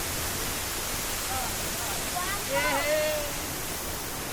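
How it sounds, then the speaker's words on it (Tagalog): Gigiban Falls roars as a steady, full broadband wash of falling water close by, while a voice calls out briefly over it near the end. "This is the Gigiban Falls."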